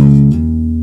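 A soft, beginner-style hammer-on on a bass guitar: a low sustained note that shifts to a second pitch partway through, with the fretted note ringing on quietly, no talking.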